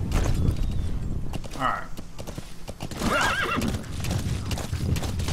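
Horse hooves clip-clop in Metal Gear Solid V: The Phantom Pain, a steady run of hoofbeats with a couple of whinnies and neighs, while someone talks briefly over the game sounds.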